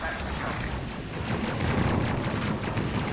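Rockets firing at ships in the space combat game Space Crew: dense continuous rattling bursts of explosive fire, loud and sustained without pause.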